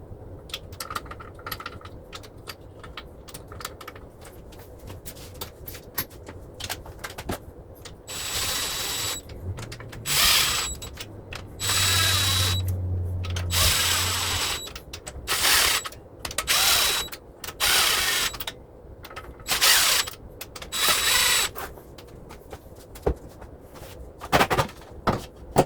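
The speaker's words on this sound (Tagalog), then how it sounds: "nagamit tayo ng impact wrench" An impact wrench works on a Honda Civic engine during cylinder head replacement, loud buzzing bursts of varying length with ratcheting clicks and metallic handling in between, recorded close in a workshop.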